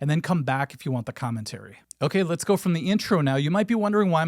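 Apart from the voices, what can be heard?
None of the usual background noises is heard.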